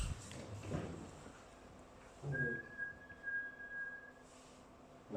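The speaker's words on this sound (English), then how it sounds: "So my whistling is not a perfect sinusoid, but it was clean enough that you could see it as a clear peak" A person whistles a single clean, sustained tone that holds steady for about two seconds, quiet and close, with faint room noises and soft bumps around it.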